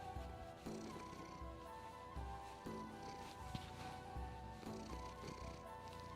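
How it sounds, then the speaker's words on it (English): A pet cat purrs loudly and steadily up close, its rumbling purr pulsing in a continuous rhythm with no talk over it. "Wow, you purr so loud."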